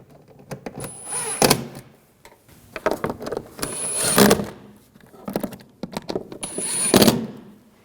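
Three bursts of quick ratchet clicking while bolts are tightened on a 2007-2013 BMW 328i 3.0L inline-six, close and crisp, separated by short pauses.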